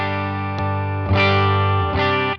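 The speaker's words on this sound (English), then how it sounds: "So clean tone with the boost." Electric guitar with a clean tone through a Supro-style volume boost pedal that adds volume without grit: three loud, close strummed chords, each left ringing full and sustained into the next, with no talking, before the sound is cut short.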